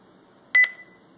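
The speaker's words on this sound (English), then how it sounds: "we're listening for the three beeps" A Honeywell wireless sensor panel emits a quick pair of clear, bright electronic beeps in otherwise quiet surroundings while a water/temperature sensor is being programmed.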